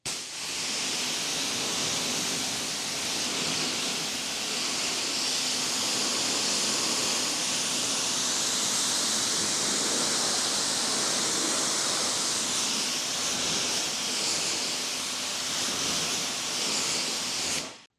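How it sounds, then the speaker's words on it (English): AR630 V2 pressure washer blasting a heavy flow of water onto a car's body panel, a loud, steady hissing spray that runs unbroken for about eighteen seconds before cutting off abruptly, with no talking over it. "look how much water. We're just overly drenching the panel."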